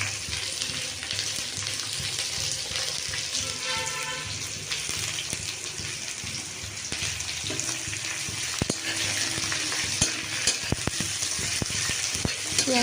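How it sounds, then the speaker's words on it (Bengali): Garlic and chopped onion fry in a pan, a continuous crackling sizzle with occasional scrapes and stirring clatter, steady and fairly close, with no voices. "এবার পেঁয়াজটাকেও দিয়ে ভালো করে ভাজা করে নিতে হবে"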